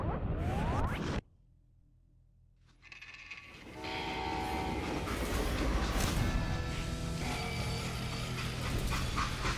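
A freight train in the video game Call of Juarez: Gunslinger rumbles and clatters loudly, with a horn-like tonal blast after a brief near-silent gap, followed by a continuous dense roar of rail cars.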